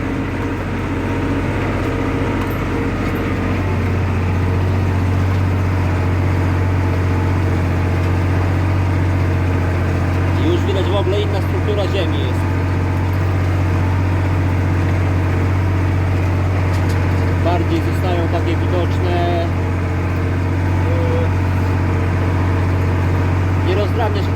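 A Renault 110.54 tractor ploughs a field ahead of maize planting. Its engine drones steadily and loudly throughout at a low, labouring pitch, while someone talks over it.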